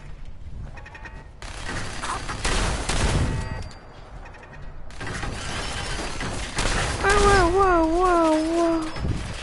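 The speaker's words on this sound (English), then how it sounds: "Keep on hearing that freaking turret." An automated turret fires in Fallout 4, with a few sharp bursts of rapid gunfire separated by pauses, followed by a wavering whine near the end.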